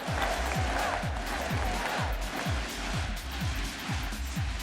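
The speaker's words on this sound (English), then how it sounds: "Crowd certainly rallied up here." A large arena crowd at the VCT Masters Madrid esports grand final roars continuously, with rhythmic pulsing beats in a steady chant-like pattern under a broad wash of cheering and applause.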